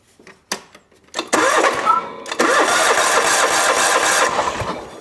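Lawn tractor engine cranking over several short bursts, then catching into a loud, steady running roar close by; no one speaks.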